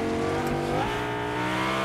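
A car driving in the video game Fortnite Chapter 5 Season 4 gives a close, continuous engine hum whose tone bends and climbs as the vehicle speeds up.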